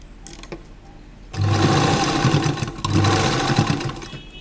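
An electric sewing machine stitches a kurta, starting with faint handling taps, then running in a loud, steady whir in two close bursts with a brief dip between.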